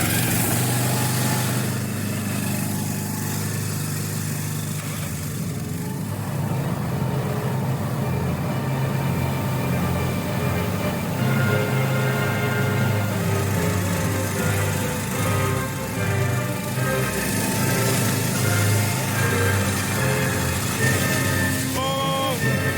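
Two high-pressure washers run together in a loud, unbroken motorized drone, with a steady engine-like whine and a buzzing texture that continues for the whole stretch.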